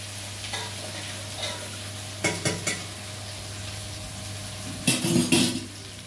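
Food fries in a pan with a steady sizzle while a utensil stirs it, scraping and clinking against the metal in a few short bursts, up close with no talking.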